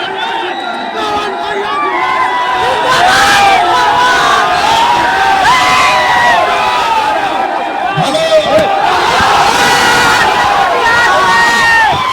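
A huge crowd packed into a rally ground in Barhara for a Bhojpuri singer roars and cheers, with shouting voices and chanting swelling in waves, loud and close throughout.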